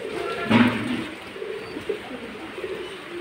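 Pigeons cooing in a hot pigeon shed on a farm, a soft close coo burst near the start followed by faint intermittent murmurs over a low steady background.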